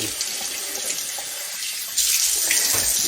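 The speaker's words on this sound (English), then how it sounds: "I run cold water down there in it" Cold tap water runs steadily into a sink over a whole raw chicken, a continuous close splashing rush that grows louder and brighter partway through.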